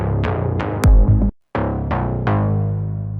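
Synth-brass stab rebuilt in Serum after a remix: a string of bright, punchy chord hits with a thumping low end, a brief dead gap, then more rhythmic stabs fading under a sustained tail, no voices.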